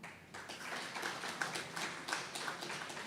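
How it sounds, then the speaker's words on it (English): An audience at a university alumni association anniversary celebration claps for Professor Say, a short burst of scattered, moderately faint applause with a few sharper individual claps standing out. "She deserves a bigger clap than that."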